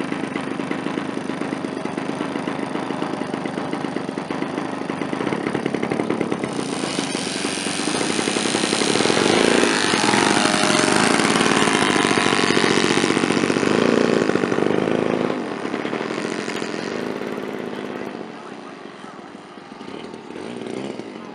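A Hangar 9 X-Cub radio-controlled plane powered by a Saito FG61TS engine drones steadily in flight, its buzzing pitch rising and swelling mid-pass before easing off as it moves away.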